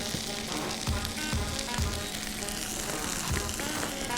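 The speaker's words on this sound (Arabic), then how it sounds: "المجدره بتاعتي اهي ابتدت تغلي معايا" Mujaddara of lentils and rice bubbling in a pot, a steady sizzling hiss with soft irregular pops, close by and fairly quiet.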